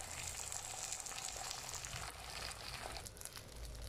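Eggs frying in a pan as a breakfast dish cooks, a steady soft crackle and hiss holding through the whole stretch at low level, with no talk over it.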